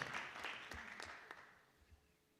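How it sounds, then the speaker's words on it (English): Applause from an audience honoring the 2010 state champion team at a school hall of honor ceremony, a burst of clapping that fades out over a couple of seconds. "Let's give that team a great round of applause"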